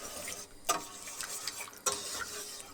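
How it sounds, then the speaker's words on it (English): A whisk or spoon briskly mixes milk into a thickening white sauce in a pan, making a soft continuous scraping and stirring with a couple of sharper clicks against the pan, close and quiet, with no talking. "briskly mix it in, trying to get rid of those lumps before it all thickens up again."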